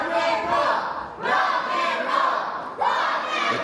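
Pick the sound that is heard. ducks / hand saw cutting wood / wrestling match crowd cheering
wrestling match crowd cheering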